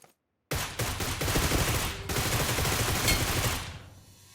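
Gunfire in PUBG Mobile, a rapid sustained burst of automatic shots starting abruptly after a moment of silence and lasting about three seconds before trailing off, loud and close with no talk.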